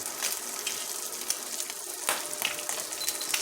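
Eggs fry in corned beef nests in a pan, giving off a close, steady sizzle with small crackles and pops throughout.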